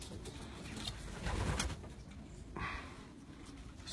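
Pigeons coo softly in a ventilated loft in a rural area, low repeated calls sounding faint over room noise and a few rustles.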